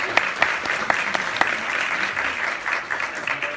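Audience applause at a Telemundo studio launch event in Beverly Hills, sustained clapping from a crowd with dense rapid claps, steady and moderately loud throughout.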